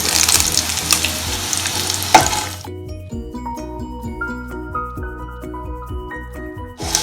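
Curry leaves and whole dried red chillies sizzle in hot oil for an egg curry tempering, a loud crackling burst that drops after a couple of seconds to a quieter, steady bubbling sizzle.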